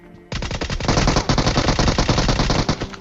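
Sustained automatic gunfire in a battle-royale style video game, a dense, loud rapid-fire burst kicking in after a brief quiet start and rattling continuously to the end.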